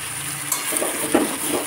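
Fried potatoes are stirred into a pan of cooking masala, giving a soft sizzle with a few scraping and clinking strokes of a utensil against the pan, close and brief, with no talk.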